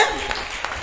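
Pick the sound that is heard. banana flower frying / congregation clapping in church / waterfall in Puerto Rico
congregation clapping in church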